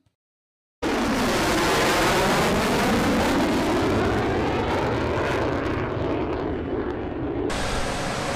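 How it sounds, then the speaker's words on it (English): A loud, continuous jet engine roar fills the clip after a moment of silence, holding steady with a broad rushing whine that shifts slowly. "we are going to watch a short video of a jet plane"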